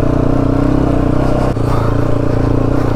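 A motorcycle engine runs loud and close as the bike is taken out, a steady idling rumble with a brief clatter midway.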